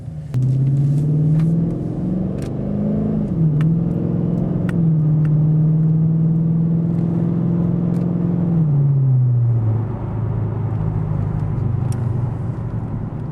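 A 2009 Dodge Challenger R/T accelerates along a road, its engine droning loud and close with rising and falling pitch as it shifts, a steady rumbling run that eases lower toward the end.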